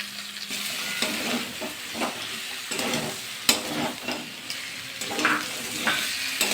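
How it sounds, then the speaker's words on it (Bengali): Cauliflower, potato and green peas curry being stirred in a pan with spices, a soft sizzle under repeated scraping and clinking of a spoon against the pan, close and quiet with no talk. "ভালো করে কিন্তু নাড়াচাড়া করে নিলাম"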